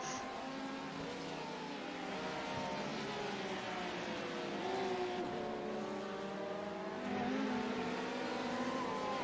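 GT3 race cars, a Ferrari among them, roar around a circuit with a steady droning engine note, swelling louder near the middle and again toward the end as cars close in, with no talk.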